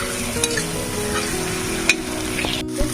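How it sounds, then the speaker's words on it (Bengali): Spice masala fries in hot oil as it is stirred and scraped around the pan, a loud continuous sizzle broken by a few clinks of the spoon, close up with no voices. "মশলাটাকে ভালো করে কষে নিই"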